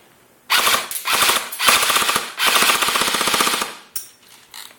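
An airsoft gun fires rapid bursts of BBs into a phone, loud automatic rattling volleys broken by short pauses, close by with no talk.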